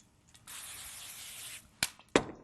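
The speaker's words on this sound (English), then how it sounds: "I'm going to spray my hand." Cooking spray hisses onto a hand in one steady burst of about a second, followed by a few sharp clicks and taps from the can, close and fairly quiet.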